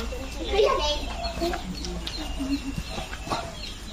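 Chickens, including village chickens, cluck and squawk close by on a farm, mixed with people talking in the background.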